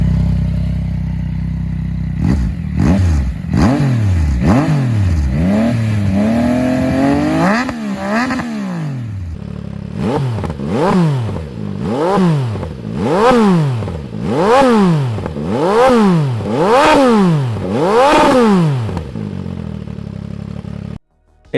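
A three-cylinder motorcycle engine with even firing intervals revs loudly and close. A few uneven climbs come first, then about ten regular, smooth rev sweeps rise and fall as one continuous, full-bodied tone before it cuts off abruptly.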